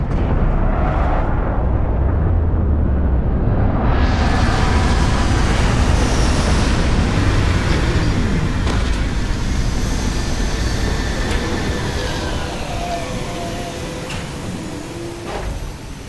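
Spaceship landing on a planet in Starfield, a loud sustained roar of thrusters that swells with a rushing hiss and rumble, then slowly tapers, with no talk over it.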